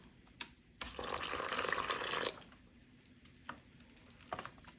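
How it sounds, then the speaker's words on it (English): Water poured from a container into a Canadian IMP MRE poutine pouch up to the fill line, a bright splashing stream for about a second and a half, bracketed by small crinkly handling taps of the pouch. "I've got some water here. Fill to line."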